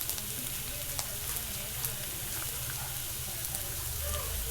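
Dal, garlic and green chillies fry in a pan for aloe vera chutney, giving a continuous close sizzle with light crackles throughout.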